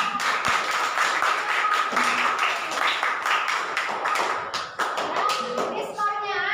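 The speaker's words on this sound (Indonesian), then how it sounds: "Oke, tepuk tangan untuk kita." Students in a classroom clap together for a few seconds after a lesson evaluation, steady close clapping with some voices mixed in before it thins out at the end.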